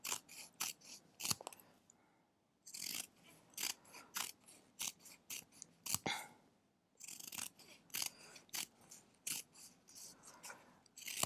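Scissors snip paper into small strips, crisp repeated cuts in quick bursts with short pauses, close and quiet, no talking.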